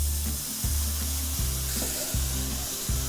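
White wine poured into a hot pan of toasted risotto rice, giving a steady broadband sizzle and hiss that runs through the whole moment, with low thuds and rumbles of the pan underneath.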